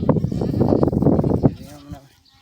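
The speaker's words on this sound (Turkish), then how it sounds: "şimdi Yusuf'un davarları geldi" A flock of sheep arriving at a highland summer pasture bleats in a dense, overlapping chorus close by, then thins to a few calls with a voice briefly heard.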